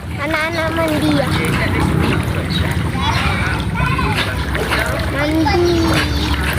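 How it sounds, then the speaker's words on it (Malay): Children splash and play in flood water where an overflowing lake has swamped village houses, steady splashing close by with children's voices calling and chattering throughout. "Anak-anak mandi ya."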